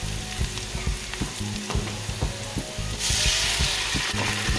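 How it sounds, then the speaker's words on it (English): Half and half poured into a hot pan for a creamy sun-dried tomato linguine sauce, sizzling steadily with stirring scrapes, then surging into a louder, brighter hiss as the cream hits the metal near the end. "we're gonna add a cup of half and half to the mix"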